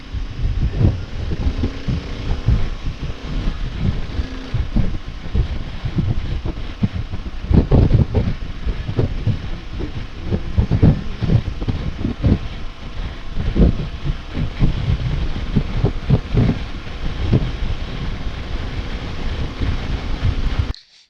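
A Kawasaki KLR motorcycle on the move, with a steady, continuous engine drone heavily mixed with rushing wind buffeting the microphone for the whole stretch, loud and close, with no voices.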